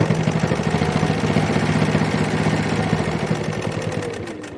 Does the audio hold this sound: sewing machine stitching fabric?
yes